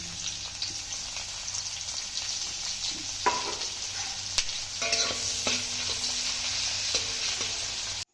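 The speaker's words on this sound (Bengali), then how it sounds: "পেঁয়াজটা একটু লাল লাল করে ভেজে নিয়েছি" Chopped onions sizzling and frying in a pan while being cooked for hakka noodles, a steady crackling hiss with occasional sharp clinks and scrapes of a spatula stirring, close and continuous with no voices.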